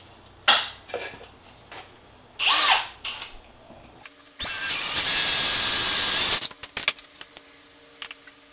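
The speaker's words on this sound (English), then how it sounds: "we're going to drill and tap a hole right through there." Power drill boring a 3/16-inch hole through a turbo wastegate, preceded by a few short metallic clinks and tool handling, then one loud, steady burst of drilling lasting about two seconds, followed by small clatters.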